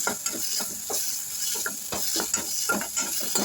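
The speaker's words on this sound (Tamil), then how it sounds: "தக்காளி போட்டு நல்லா வதக்கிட்டு அது ஓரளவுக்கு வதங்கணும்" Tomatoes sautéing in a pan for crab rasam: a steady soft sizzle runs throughout, with repeated scraping stir strokes from a spoon, close and moderately loud, and no voices.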